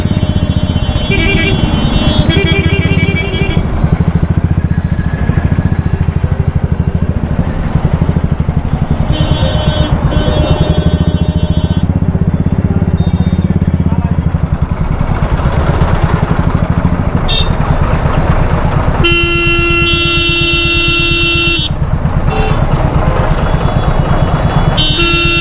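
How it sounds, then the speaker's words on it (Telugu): Dense road traffic roars steadily, with motorcycles, cars and a lorry close by and repeated horn toots and longer honks cutting through; brief voices can be heard among the engine noise. "ఏంటి ఇంత ట్రాఫిక్ అయింది?"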